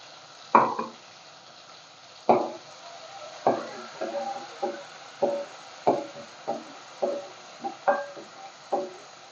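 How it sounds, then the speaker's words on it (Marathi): Spice masala with asafoetida being sautéed on low heat: a quiet sizzle under a regular series of distinct knocks and scrapes from a spoon stirring against the pan, about one every half second to second. "परतून घ्यायचा मसाला जरा त्याचा जो कच्चा वास आहे तो जाईपर्यंत आपण थोडा परतून घेऊया"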